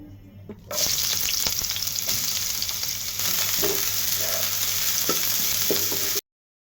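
Oil and onions frying in a pan on a stove, a loud, steady, close hiss of sizzling with faint stirring knocks, cutting off abruptly at the end.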